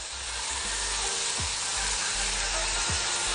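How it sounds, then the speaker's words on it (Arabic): Chicken sautéing for fajita pasta gives a steady, bright sizzle that fills the short stretch, with a few soft low knocks from the pan beneath it. "ولحد ما الفراخ تاخد تشويحتها"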